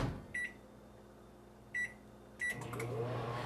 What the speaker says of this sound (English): I want to put this in the microwave for just a minute.